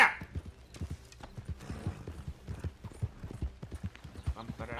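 Horse hooves clip-clop in a steady trotting rhythm during a ride in a video game, close and moderately loud, with a brief neigh at the start.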